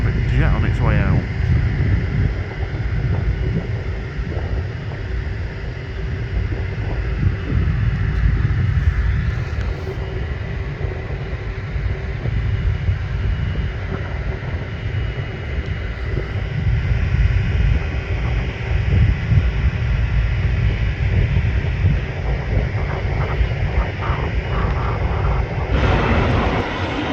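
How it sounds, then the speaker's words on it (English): Private jet departing at a busy airport, its engine roar a steady loud rumble that swells and fades gradually over nearly half a minute, heard from a distance outdoors with a voice talking over it. "private jet on its way out."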